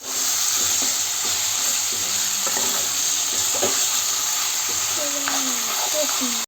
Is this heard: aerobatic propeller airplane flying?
no